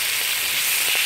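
Steady, close sizzling hiss of lamb stir-frying in a hot pan, continuous and even throughout.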